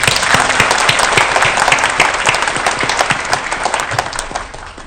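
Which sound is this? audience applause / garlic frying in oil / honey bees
audience applause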